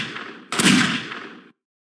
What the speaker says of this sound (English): Kitchen gun!